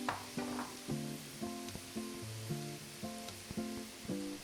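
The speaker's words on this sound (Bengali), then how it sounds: "অর্ধেক গাজর দিয়ে 8-10 সেকেন্ড ভাজব।" Carrot, capsicum and green chilli fry for veg fried rice, giving a steady soft sizzle with rhythmic metallic scraping and stirring strikes against the pan.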